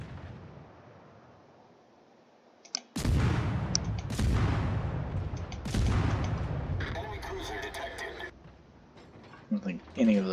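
Naval guns fire in a World of Warships battle: heavy booming salvos in a few loud bursts, each followed by a rumbling tail, with mechanical clatter and someone talking over the action.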